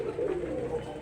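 Pigeons cooing inside a two-storey pigeon farm building, many birds overlapping in a steady, close, continuous murmur of soft low coos.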